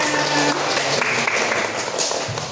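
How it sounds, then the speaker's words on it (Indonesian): Classroom applause from a group of teachers, a dense steady patter of clapping lasting a couple of seconds, fairly loud and close, with a faint voice underneath. "tepuk tangan untuk kita semua"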